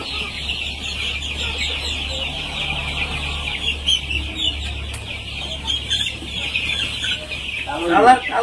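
Tiger breed chickens at a chicken farm in Ullapara, Sirajganj, with a steady chorus of soft clucking and chirping from many birds, a low hum underneath and a louder nearby cluck burst near the end.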